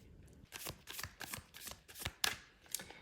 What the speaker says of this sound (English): I'm just gonna shuffle the deck.